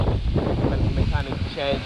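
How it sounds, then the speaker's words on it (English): Gusty wind buffets the microphone outdoors in the rain beside a repaired, lifted Amarok, a loud low rumbling roar with irregular surges, while someone speaks over it. "it's too windy now as well and it's raining"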